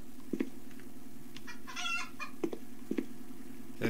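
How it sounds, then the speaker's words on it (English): Chickens in the video game Guns and Magic cluck in short, repeated bursts against a steady low game hum, with a few sharper clucks spaced across the moment. "They're the chickens."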